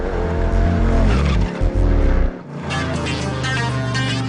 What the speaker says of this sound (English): These supercharged ultralight versions can go from 0 to 60 miles per hour in